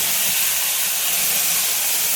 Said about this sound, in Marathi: मोहरी टाकते, मोहरी चांगली तडतडून द्यायची